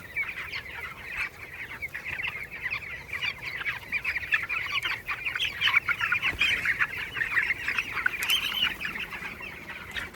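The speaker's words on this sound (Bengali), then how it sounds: "পাখিগুলো চিপস ডিঙ্গারে খুব সুন্দরভাবে জল খাচ্ছে" Village farm chickens drinking at a nipple drinker, with steady overlapping clucks from a flock close by, continuous and moderately loud, no voices.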